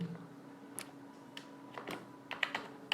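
Light clicking of computer-keyboard keys while a playlist name is typed, a sparse, uneven run of soft taps close by, with no talk.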